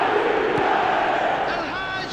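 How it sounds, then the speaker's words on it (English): A stadium crowd in the eFootball video game roars in a dense, sustained wave of cheering and chanting that eases slightly toward the end, with no commentary over it. "the crowd are reacting to that now"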